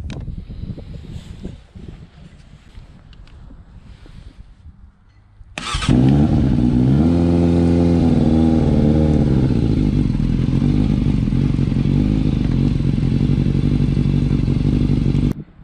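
A motorcycle engine, jump-started from a Chinese power bank, catches abruptly after a quiet stretch of faint clatter, then settles into a loud, steady idle that runs to the end without talk.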